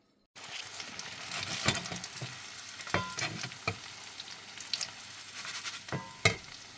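Peanuts and cumin frying in oil, a close, continuous crackling sizzle with scattered sharper pops and spatters across several seconds, no talking.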